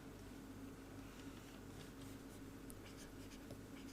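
Chalk or marker writing on a board in a lecture on metallurgical and electronic waste classification, a continuous faint scratching over steady room hum, with no talk.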